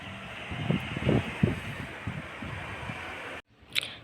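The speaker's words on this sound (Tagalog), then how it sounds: "Ayan, mahangin dito sa labas, 'di ba?" Wind gusts buffet a microphone outdoors on a hot, breezy day, giving a steady rushing roar with low thumps that cuts out abruptly near the end.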